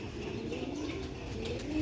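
Old Firozpuri pigeons cooing softly in a low, continuous murmur, steady throughout with slight rise at the end, nearby but faint.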